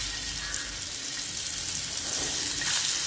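A garlic egg spiced with chili powder, turmeric and salt sizzles steadily on a dosa tawa, a soft, even frying hiss heard up close with no talk.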